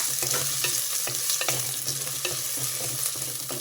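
Cut potato pieces tossed into green chilli masala frying in a pan for leafy-greens pulao, a steady close sizzle with repeated stirring scrapes throughout.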